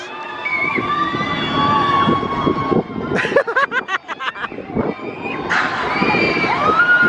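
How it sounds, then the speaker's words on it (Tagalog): Child screaming on an amusement park ride at Enchanted Kingdom, shrill cries mixed with crowd shouts and excited voices nearby, loud and bursting in waves with a choppy stretch midway. "Si Hailey sumisigaw na."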